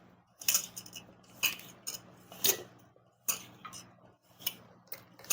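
A spoon clinks and scrapes in a bowl while salt is mixed into chutney ingredients for a brinjal pickle, with irregular light metallic taps and stirring strokes, close and fairly quiet, no talking.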